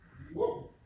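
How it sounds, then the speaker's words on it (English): A single short dog bark, muffled and somewhat distant, heard indoors. "Sorry if you can hear a dog barking."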